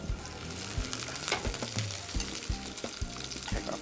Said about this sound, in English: we let these onions start caramelizing a bit